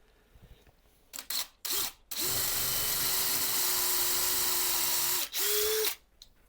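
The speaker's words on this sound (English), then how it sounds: "go in with a drill for a worm screw" A power drill bores into a wood blank to seat a lathe worm screw, with a few short bursts and then one long steady run that dips briefly before a final short spin, close and loud.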